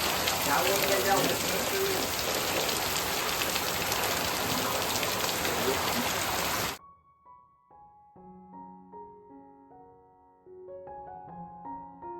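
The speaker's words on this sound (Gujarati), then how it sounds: "એ ધોધમાર વરસાદ છે" Heavy monsoon downpour drenching an outdoor fair, a dense, loud, steady roar of rain for about seven seconds that cuts off abruptly, followed by soft tonal music.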